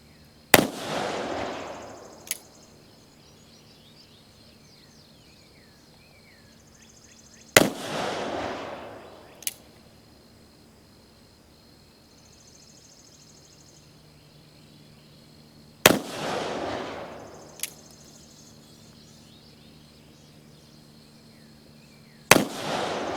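An Uberti-made Colt 1861 Navy revolver fires four loud, sharp shots spaced several seconds apart, each with a booming decay, in otherwise quiet outdoor surroundings with faint insect chirps.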